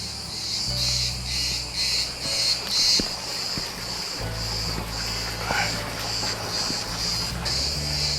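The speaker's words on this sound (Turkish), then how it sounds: "sakince kuş seslerini, ağustos böceklerini dinleyerek huzurla dolabilirsiniz" Continuous pulsing buzz of cicadas fills the air, rising and falling in waves, with occasional faint bird chirps and rustles in open countryside in Bodrum, Turkey.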